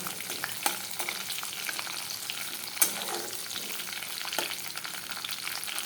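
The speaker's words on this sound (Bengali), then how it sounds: "কিশমিশটা হয়ে যাবে, কাজুটা একটু ফ্রাই হবে" Cashews and raisins fry in hot oil in a pan, giving a steady crackling sizzle with a few sharp stirring clinks against the metal.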